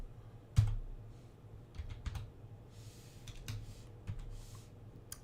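Fingers type on a computer keyboard in quick, uneven bursts of light clicks, with one sharper key strike near the start, close and moderately quiet against a low background hum.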